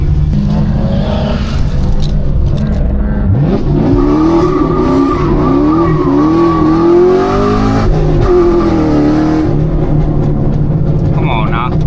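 A cammed Chevrolet SS drives through Charlotte highway traffic, its engine loud and close with rising and falling revs across gear changes, a rough lumpy drone throughout, with voices talking over it.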